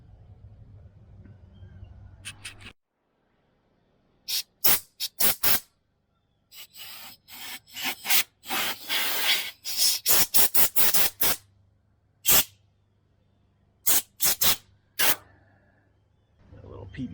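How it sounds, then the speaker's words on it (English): Short sharp bursts of compressed air from an air gun blow metal shavings out of a freshly tapped bolt hole on a Mitsubishi Jeep, coming in a quick series of hissing blasts separated by pauses. "I'm about to stick an air gun down in there and blow my shavings out"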